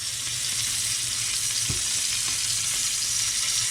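Oil sizzling in a very hot pan before fillet steak goes in, a loud, constant frying hiss with a few small knocks and clinks underneath.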